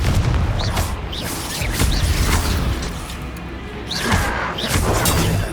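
Spell explosions from the Confringo curse in Hogwarts Legacy burst in a game fight as booming, crashing blasts with debris, loud and repeated, with game effects layered over.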